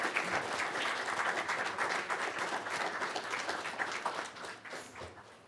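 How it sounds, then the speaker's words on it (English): Steady applause from a meeting audience for the 2021 Citizen of the Year, loud and continuous for the whole stretch with no voices over it. "round of applause"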